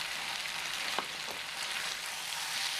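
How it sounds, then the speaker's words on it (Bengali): Fried prawns and ol stalks (elephant foot yam stems) cooking with vegetables in a pan, a soft continuous sizzle with a couple of faint clinks near the start, quiet and steady. "ভেজে রাখা চিংড়িগুলি দিয়ে দিচ্ছি।"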